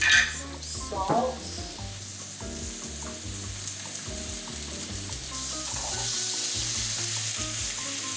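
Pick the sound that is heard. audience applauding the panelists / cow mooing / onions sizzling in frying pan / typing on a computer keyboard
onions sizzling in frying pan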